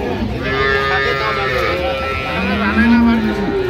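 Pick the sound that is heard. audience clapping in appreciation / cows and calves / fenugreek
cows and calves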